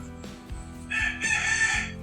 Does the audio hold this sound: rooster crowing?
yes